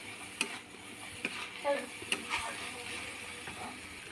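Taro leaf curry (kochu shak) stirred in a pan, soft intermittent scrapes and taps of a spatula over a faint low sizzle, quiet and close.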